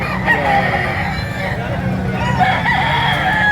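A rooster crows in a busy Lipa, Batangas gamefowl market, the drawn-out calls rising over constant crowd noise and clucking hens.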